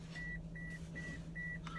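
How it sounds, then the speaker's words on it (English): Toyota Matrix seatbelt warning chime, a faint run of five evenly spaced short electronic beeps over a low steady engine hum inside the car. "Got that nice beeping sound. I'm sure from seatbelt."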